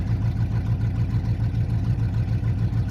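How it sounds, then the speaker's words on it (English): Ford Ranger with a 5.0 302 V8 and mild cam idling nearby, a steady low, loud rumble with a slightly uneven, loping pulse throughout, no voices. "It's got a mild cam in it, so it kind of stumbles at idle a little bit"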